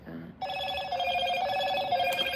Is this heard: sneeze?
no